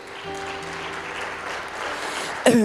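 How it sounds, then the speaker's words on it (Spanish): Applause from a church congregation, a soft continuous spread of clapping over a faint sustained musical tone, ending with a brief sung or spoken note at the close. "Si es para Cristo, dáselo fuerte el aplauso"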